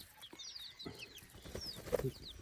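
Chickens let out to feed on a cold hilltop morning cluck softly and intermittently, with faint chirps over quiet rustling.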